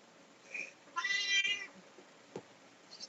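A tailless domestic cat gives one clear, drawn-out meow, near and moderately loud, followed by a brief thump and a faint start of another call, with no talking.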